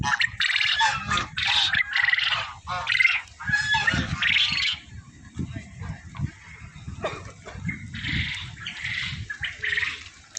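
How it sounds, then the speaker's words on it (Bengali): Quail and geese calling at a resort farm near Bishnupur, with repeated honks and chattering calls in bursts close by, mixed with someone talking over them. "এটা কোয়েল পাখি, নিচেটা কি, নিচেটা রাজহাঁস, এই নিচেরটা রাজহাঁস, আর এই ওপরে এগুলো কোয়েল পাখি।"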